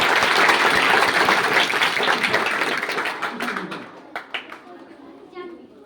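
Audience applause at a Marathi mind-power lecture, dense clapping that tapers off over several seconds into a few scattered claps, with voices murmuring underneath.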